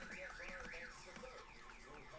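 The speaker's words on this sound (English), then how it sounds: "There's the alarm." Car alarm wailing continuously in a rising and falling siren pattern with a steady pulsing tone beneath, moderately distant and alone.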